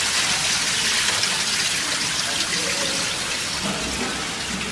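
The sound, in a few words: water being poured off soaked rice into a pot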